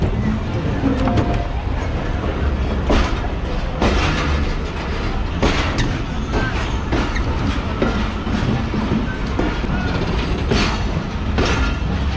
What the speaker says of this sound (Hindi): ट्रेन हमारी तकरीबन 5 मिनट रुकने के बाद 10:35 डिपार्ट कर रही है हैदराबाद जंक्शन से